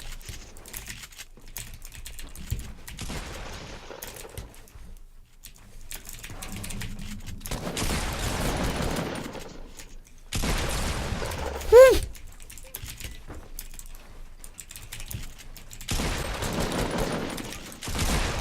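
Fortnite shotgun blasts and gunfire: bursts of sharp shots and rapid fire in a video game, separated by quieter stretches, with one loud crack near the middle and no talk over them.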